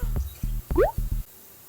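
A shot of vodka is poured into a pan for a beef stroganoff sauce, making a few short gurgling glugs and a wet plop, close and distinct with no voices, before trailing off into quiet.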